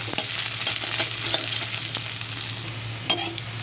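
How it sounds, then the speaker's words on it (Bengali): Chopped onion sizzles in oil while a spatula stirs it, giving a continuous frying hiss with repeated scraping clicks and a couple of sharper knocks near the end. "পেঁয়াজটা আমি নেড়ে করে ভেজে নেব।"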